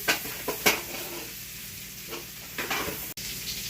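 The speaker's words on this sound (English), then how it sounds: "Now I'm going to put the onion. Sauteing and sauteing again." Onion sautés in a hot pan for a shrimp and egg dish, a close steady sizzle broken by a few spoon scrapes and taps.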